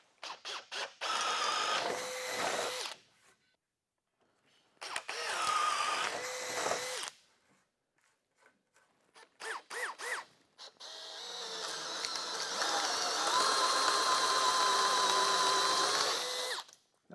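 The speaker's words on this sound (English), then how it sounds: "let's go ahead and drill some holes." A power drill whirs in three bursts, two short spurts and then a long steady run biting through wooden wall studs, with brief quiet pauses between.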